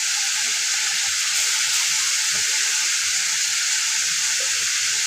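Whole spices sizzling and frying steadily in hot oil in a pan, a loud continuous crackling hiss with no talk over it.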